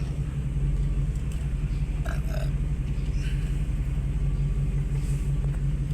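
A low, steady engine idle from a 1978 Ford Mustang drones throughout, rough and rumbling, with a few faint higher noises over it.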